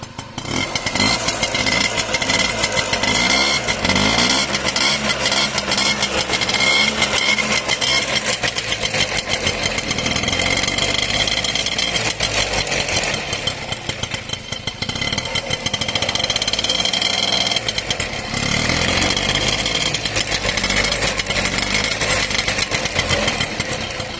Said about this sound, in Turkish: Bir de gaz verelim bırakalım.